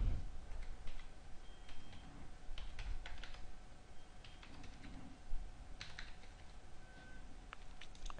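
Quiet, steady tapping of computer keyboard keys while a card number is entered, irregular clicks running throughout over a low background hum.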